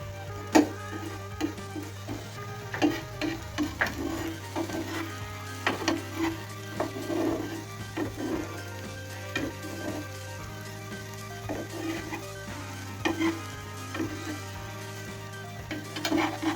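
A vegetable paratha omelette cooks in a pan over low heat, giving a steady soft sizzle with scattered light crackles and a few utensil taps, close by, with no talk.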